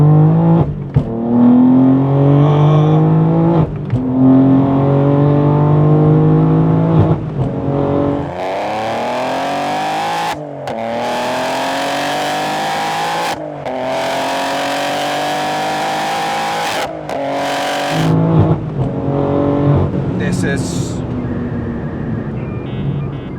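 A tuned BMW M3 G80 with a manual gearbox, Stage 3 tuning and about 785 horsepower accelerates hard through several gears. The loud engine rises in pitch repeatedly, with brief dips at each shift, heard from inside the car.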